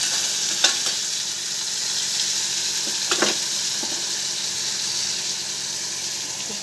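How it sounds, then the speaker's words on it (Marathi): Tomatoes sizzle steadily in hot oil with turmeric and salt, a continuous close frying hiss broken by a few soft scrapes and clicks of stirring. "तेलात टमाटर टाकलं ना, थोडी हळद आणि मीठ टाकायचं."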